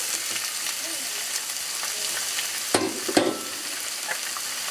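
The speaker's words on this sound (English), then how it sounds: "All right, everyone, I'm gonna add my onions." Onions frying in hot oil, a steady close sizzle with a couple of sharp clattering stir or scrape hits near the middle, with no voices.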